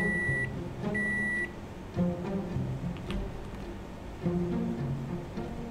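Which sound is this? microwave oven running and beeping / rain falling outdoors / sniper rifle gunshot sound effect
microwave oven running and beeping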